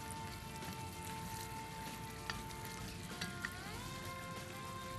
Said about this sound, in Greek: Βράζει το φαγητό σου, έχει αρχίσει το κουνελάκι.